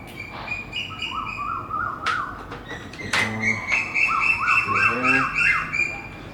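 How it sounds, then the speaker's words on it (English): Birds chirp and warble continuously with repeated sliding calls and sharp squawks, fairly close, over faint background noise. "the birds are loving this today. They're singing their little hearts out."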